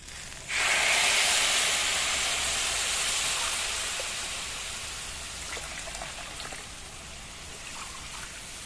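Hot water poured into a pot of rice for pushpanna, a sudden broadband rush of steady hiss and splash starting near the beginning, loud at first and gradually tapering to a softer stream, with no talking.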